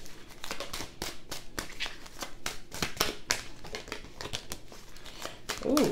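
Tarot cards being shuffled during a reading, giving a steady run of quick papery riffles and crinkly slaps close to the microphone, with a brief voiced sound near the end.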